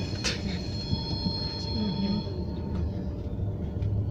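A train runs along railway tracks with a steady low rumble and thin, high squealing tones from the wheels, heard at moderate distance throughout.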